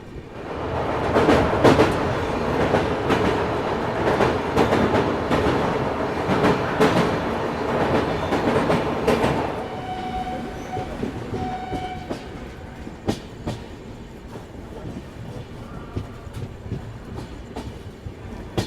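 A Lucknow–Raipur Garib Rath Express passenger train rolls along the rails, loud rhythmic clatter and rumble close by, easing to lighter clicks and thumps later, with a brief horn tone midway.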